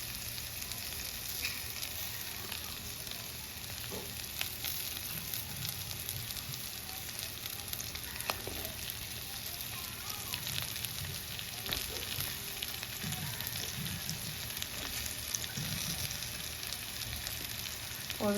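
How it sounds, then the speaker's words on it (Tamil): Food sizzling and frying in a pan as a meat curry cooks, a steady dense crackle throughout with occasional stirring clatter, close and continuous with no talk. "இப்போ வந்து இங்கால வழியாக பொரிஞ்சு கொண்டிருக்குது"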